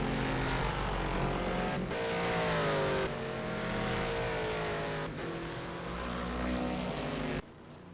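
A race car accelerates in a racing video game on the Bahrain circuit, its engine a loud continuous drone whose pitch climbs steadily through the gears, with a few brief gearshift dips.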